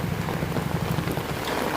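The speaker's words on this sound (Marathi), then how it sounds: "आता पाऊस पडतोय बघा आणि भिजतोय आमचा पंकज दादा" Steady rain falling outdoors during monsoon weather, a continuous broadband hiss with wind buffeting the microphone, no voices.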